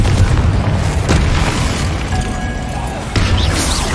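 Bombarda spell blast in Hogwarts Legacy, a loud booming explosion with dense rumbling low end that swells and holds for several seconds, then surges again with a fresh burst near the end.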